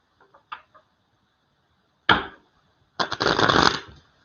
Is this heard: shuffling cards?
yes